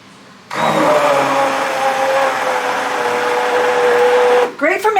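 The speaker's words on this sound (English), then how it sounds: "So I'm going to use an immersion blender. The one I have is by KitchenAid" A KitchenAid immersion blender whirs steadily through tomato sauce for canning, a loud, continuous motor drone with a faint rising whine that starts abruptly and cuts off near the end.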